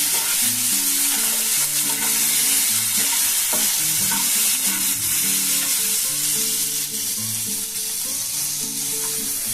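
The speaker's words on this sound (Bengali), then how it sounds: "একটু ভাজা হয়ে যাবে টমেটো" Tomato and onion frying in a pan, a loud continuous sizzle with occasional stirring scrapes, set against steady background music and no talk.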